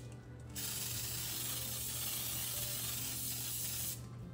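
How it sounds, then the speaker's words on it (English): A steady hiss of aerosol spray coating baking pans runs continuously for a few seconds, close up, starting and stopping abruptly with a faint background hum. "I'm gonna spray these really good."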